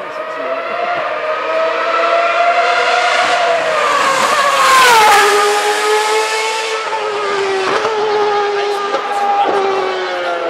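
A Formula 1 car drives past at a Copenhagen showcase, its loud high-pitched engine wail rising as it approaches, bending down in pitch as it passes near the middle, then screaming on into the distance.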